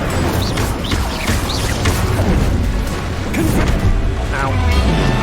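Fiery Incendio spell blasts from Hogwarts Legacy burst repeatedly amid rapid combat effects, with whooshes and crackling impacts layered under a busy game soundtrack.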